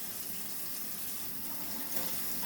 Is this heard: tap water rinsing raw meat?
yes